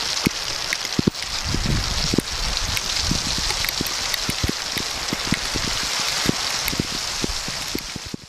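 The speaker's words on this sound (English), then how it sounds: "Here comes the downpour." A heavy rain downpour at an off-grid cabin in southeastern Arizona, a dense continuous hiss of rain with many sharp drips and drops pattering on nearby surfaces throughout, loud and steady, without talk.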